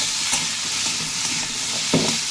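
Vegetables fry with salt in a pan, giving a loud, dense, continuous sizzle with a few soft stirring knocks scattered through it.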